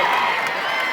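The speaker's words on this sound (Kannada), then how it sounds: "ಪ್ರೇಕ್ಷಕರು ಚಪ್ಪಾಳೆ ಸಿಳ್ಳೆ ಹೊಡೆದು ಆಟಗಾರನ ಹುರಿದುಂಬಿಸಿ ಖುಷಿ ಪಡುತ್ತಿದ್ದರು" Spectators at a village kabaddi tournament in Raibag roar with cheering and a dense wash of clapping, a steady, fairly loud crowd noise throughout.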